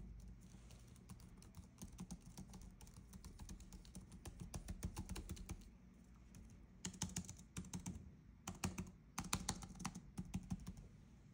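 Rapid, quiet clicking of fingers typing on the keyboard of an Asus CX34 Chromebook Plus laptop, in bursts with a brief pause midway, close and alone.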